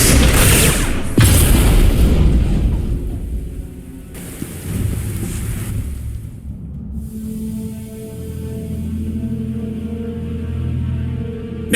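A grenade detonates in the Star Wars: The Old Republic video game, a loud, heavy boom followed by a second blast and a long rolling rumble that settles into a low, droning hum.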